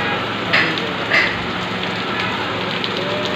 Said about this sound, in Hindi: बाहर कैसी बरसात हो रही है